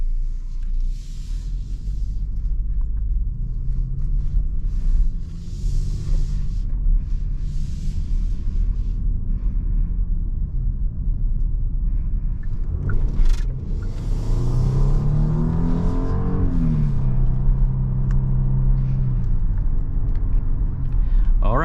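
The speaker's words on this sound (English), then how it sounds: "Alright, so driving this 2022 Genesis GV80" A 2022 Genesis GV80 SUV driving on the road, heard as a steady low cabin rumble of road and engine noise, with a voice speaking over it for much of the time.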